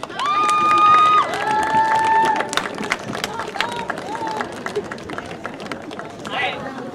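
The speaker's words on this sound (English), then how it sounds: "please give them a round of applause" A graduating class at a Holton High School graduation gives a round of applause, clapping mixed with cheering and crowd chatter, loudest at the start before thinning into scattered claps and voices.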